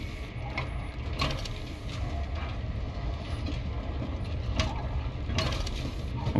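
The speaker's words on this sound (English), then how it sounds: "I've got to admit, the sounds of the train on the tracks is really well done." A train rumbles along rails in the video game Voidtrain, a low continuous rolling drone punctuated by sharp metallic clicks and clacks at irregular intervals, steady and fairly close.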